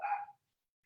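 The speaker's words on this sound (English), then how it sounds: "I apologize if you hear my dogs barking." A dog gives one short bark somewhere in the house, moderately loud, then silence.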